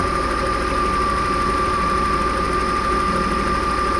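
A Volvo 960 Royal 3.0 24-valve engine idles smoothly after starting, a constant even hum with a steady whine and no change in pace, heard close and alone.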